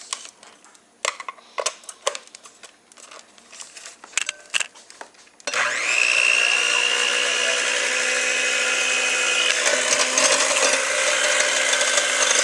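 Electric hand mixer fitted with mixing blades whipping a thickening hydrating hair cream for curly hair, switching on after scattered clicks and taps, then a steady loud motor whir running continuously to the end.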